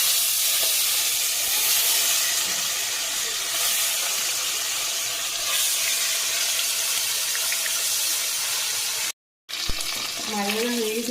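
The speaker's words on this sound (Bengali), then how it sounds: "মাছগুলো ভেজে নেব।" Fish pieces fry in hot oil with a loud, dense, continuous hiss and crackle close up, nearly unbroken for the whole stretch, with no talking.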